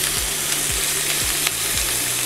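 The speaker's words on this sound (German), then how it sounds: "Und jetzt lassen wir das Gemüse so ein bisschen anbraten" Diced vegetables sizzle and fry steadily in a hot pan, a dense close hiss with faint scrapes of stirring.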